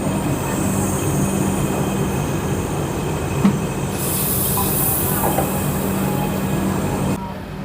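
A broad gauge Kasganj–Aishbagh Express runs on the line, its wheels and carriages giving a steady loud rumble with a constant hiss and faint wheel squeal, then the noise drops sharply near the end.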